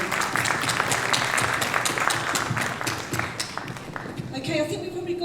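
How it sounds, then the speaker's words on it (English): Conference audience applause for a speaker at a halal travel market panel, clapping that starts strong and then tapers off, with a voice beginning to talk as it fades. "Can we have another round of applause,"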